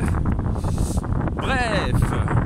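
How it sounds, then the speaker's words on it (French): Rising wind gusts buffet the microphone in a loud steady roar outdoors on an icy cold morning, with a voice speaking briefly over the blustery noise. "Ah, le vent se lève et il est glacial."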